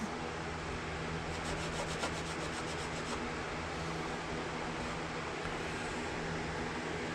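Steady abrasive rubbing of sandpaper on a small wooden part for a model ship, a continuous close scratchy hiss with a brief burst of quicker strokes early on, no talking.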